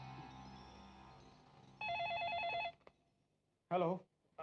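A telephone gives one trilling electronic ring lasting about a second, then falls silent before a short voice is heard.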